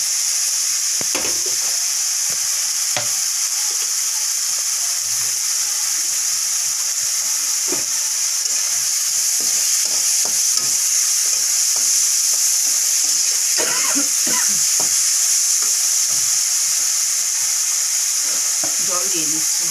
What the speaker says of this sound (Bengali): হলুদ, একটু হালকা নেড়ে নিয়ে